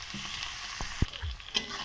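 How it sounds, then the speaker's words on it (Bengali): Green chillies and garlic fry in hot oil in a wok, a quiet steady sizzle broken by a few knocks and scrapes of a spatula, with no voices. "আর কাঁচা লঙ্কা দিয়ে দিলাম।"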